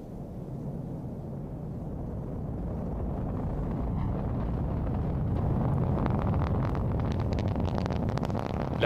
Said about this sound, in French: Allumage Vulcain, allumage EAP, décollage.